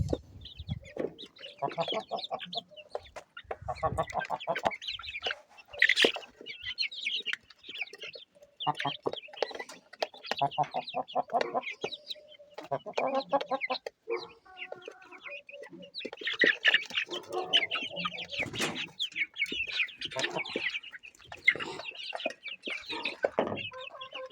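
Chickens pecking at chopped greens as they are fed, clucking steadily and busily at close range while someone talks intermittently over them.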